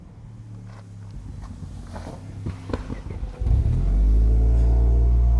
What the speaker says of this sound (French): la moto qui passe juste derrière